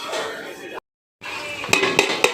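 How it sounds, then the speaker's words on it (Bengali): A lid set back onto a cooking pot during a potato-greens recipe gives a few sharp metallic clinks and taps near the end, after soft kitchen noise and a moment of total silence. "আবার ঢাকনি চাপা নিচ্ছি"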